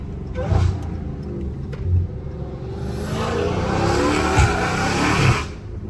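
A Dodge Hellcat Redeye drives with its supercharger whine and deep engine rumble rising and swelling, heard loud and close from inside the car, with no speech.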